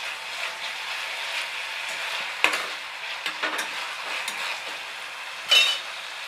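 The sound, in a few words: coriander and curry leaves added to sizzling tomato curry pan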